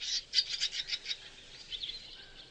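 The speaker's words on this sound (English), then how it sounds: "The swallows are nesting in the hayloft next to the barn owls." Swallows nesting under barn rafters in a hayloft beside a stable yard, giving a quick run of bright chirps and twitters that fade into softer calls, fairly close and alone.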